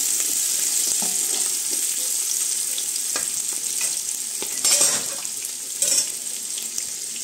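Garlic and onion sizzle steadily in hot oil while being sautéed and stirred for Filipino pancit, with a constant frying hiss and a few louder scraping stirs partway through.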